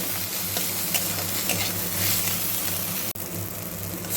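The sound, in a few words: tomatoes frying with onion and garlic, stirred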